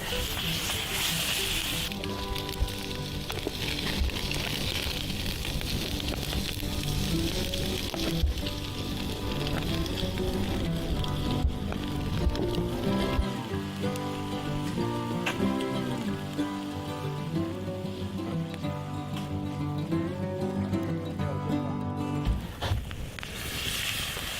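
Snow sizzling on a hot pan: a steady, faint crackling hiss on and off for about twenty seconds, with no voices.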